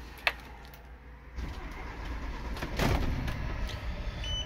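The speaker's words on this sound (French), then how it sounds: "Et donc pour le démarrer on va tout simplement donc tourner la clé." Van Hool EX16 coach with a 440 hp engine starting on the key: a brief click, then the starter cranks and the engine catches into a rising, steady rumble close by.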